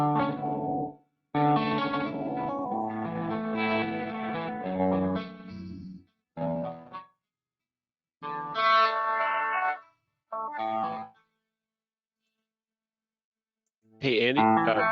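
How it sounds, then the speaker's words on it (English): Electric guitar through a Line 6 Helix with ambient reverb and an added octave effect plays shimmering chords and swells in short bursts separated by silences, with effects-heavy sustain. "reverb, which is going to go ahead and add a bit of reverb, but also a bit of some octaves happening over that"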